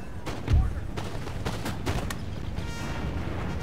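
Musket volleys in Empire Total War, a series of sharp, repeated cracks with one heavy close report near the start, followed by scattered shots over a steady battlefield din.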